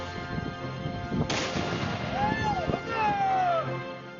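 A historical reenactment crew near a Lewis and Clark site in South Dakota fires a cannon, giving one heavy boom that rolls out amid crowd noise and talk.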